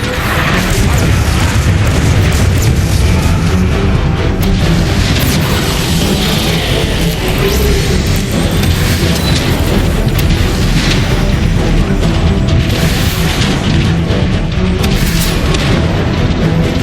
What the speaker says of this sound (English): Call in an artillery strike!